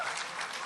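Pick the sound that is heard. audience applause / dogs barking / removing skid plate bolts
audience applause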